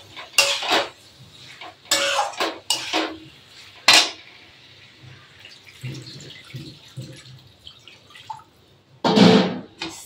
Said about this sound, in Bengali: এবার লাস্টে পনিরগুলো দিয়ে আমি নেড়ে জল দিয়ে দেবো